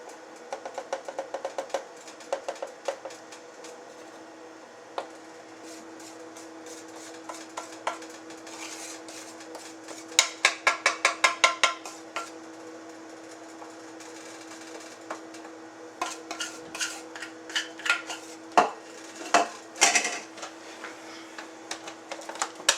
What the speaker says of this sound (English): Now I'm going to mix in my flour.